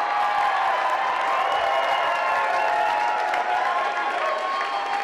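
A crowd at a battle-rap finals event applauds and cheers for Charles Hamilton, with steady dense clapping and whoops that hold at full strength throughout.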